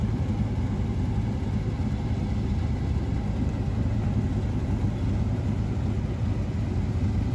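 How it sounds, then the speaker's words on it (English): A 1999 Chevy Tahoe and a 1995 Impala SS running side by side, their engines producing a steady low idling rumble that holds evenly throughout, with no one talking. "We got both vehicles running today, so you can hear the difference between the two."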